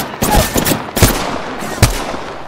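Apex Legends video game gunfire: several sharp, loud bursts of shots with short gaps between them. No voices can be heard.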